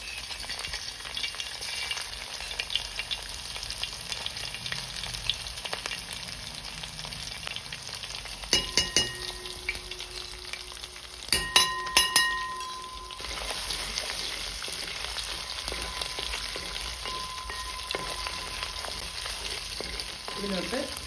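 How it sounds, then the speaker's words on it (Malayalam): Crushed garlic fries in hot oil in a pan for a Kerala-style conch stir fry, a soft steady sizzle that goes on throughout, broken by a few sharp clinks of a utensil against the pan. "ഈ വെളുത്തുള്ളിയും ചതച്ച് വെച്ചിരുന്നത് എണ്ണയിലോട്ട് ഇട്ട് കൊടുക്കാം."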